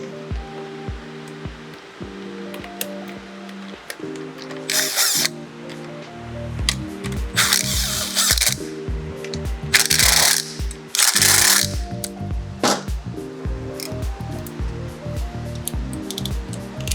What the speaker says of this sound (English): I'm going to use the 12 millimeter socket.